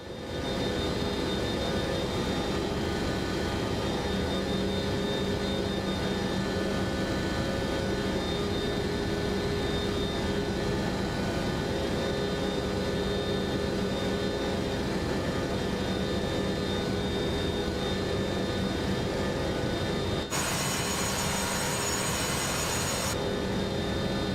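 Boeing 727 jet engines in Microsoft Flight Simulator 2024 hold a steady, loud droning hum with a fixed tonal whine, unbroken for the whole stretch, with a brief hiss toward the end.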